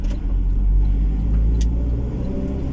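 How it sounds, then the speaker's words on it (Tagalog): A large truck loaded with timber strains up a steep mountain road, its engine a loud, continuous low rumble that stays close and steady throughout. "Hirap talaga pag ahon na truck nga malalaki."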